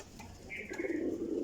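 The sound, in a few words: pigeons cooing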